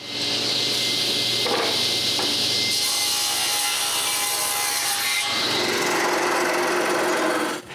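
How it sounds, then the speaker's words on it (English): A power saw rips through a square wooden block being cut for a rolling-shutter handle, a loud continuous rasping whine of blade on wood that changes pitch as the cut advances, running steadily throughout. "When I have 4 straight sides, I rip a square block and cut all the corners."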